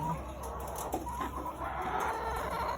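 RTL laying hens cluck in a coop, a steady murmur of soft overlapping clucks and calls against a constant background hum, with no talking.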